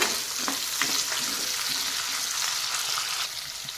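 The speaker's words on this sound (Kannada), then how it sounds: "ಇದನ್ನು ಎಣ್ಣೆ ಒಳಗಡೆ ನಾವೀಗ ಚೆನ್ನಾಗಿ ಫ್ರೈ ಮಾಡಬೇಕು" Capsicum frying in oil makes a loud, dense, continuous sizzle and crackle close by, with faint stirring scrapes and no talk.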